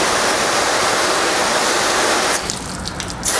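Steady, loud rush of water spraying onto a ceramic-coated test panel, continuous for most of the clip before briefly easing and becoming patchier near the end.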